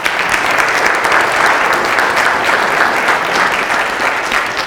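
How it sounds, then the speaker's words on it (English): Loud, close, sustained applause from a school district audience at a State of the Schools address, thick continuous clapping with no break and no talking over it. "So round of applause."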